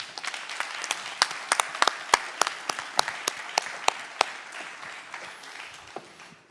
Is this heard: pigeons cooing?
no